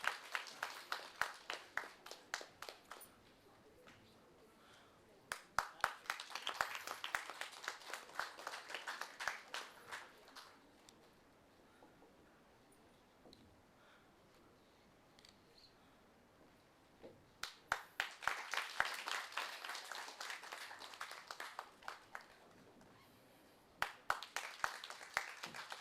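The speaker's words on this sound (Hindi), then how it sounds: "जोरदार तालियों के साथ आप सबका अभिनंदन" Seminar audience claps in bursts at a cyber crime awareness event, crisp hand claps rising and fading in three separate rounds with quiet room tone between them.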